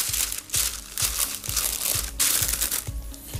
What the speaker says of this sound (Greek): Εδώ τώρα βάζω ακόμη ένα φύλλο αντικολλητικού χαρτιού.